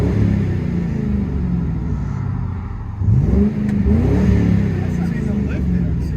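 2002 Ford Crown Vic 4.6L V8 with Vibrant resonators, heard from inside the cabin as a steady low rumble that swells in a short rev around the midpoint, with faint voices underneath.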